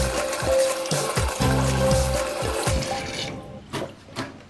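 Cold running water from a tap splashes steadily over an EHEIM Classic 250 aquarium pump part as it is rinsed, with some uneven gurgles and knocks, then the flow cuts off, leaving a few faint drips and handling sounds.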